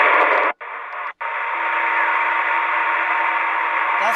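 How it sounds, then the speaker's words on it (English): A UDX362 CB radio scanning on sideband gives off loud, steady hissing RF noise, interrupted by two brief dropouts near the start before it continues unbroken. "Terrible RF noise."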